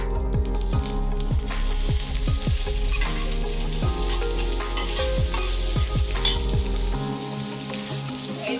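Cumin seeds fry in a little hot oil in a kadai while being stirred, producing a loud, dense crackling sizzle broken by rhythmic scraping strokes, close up and without speech.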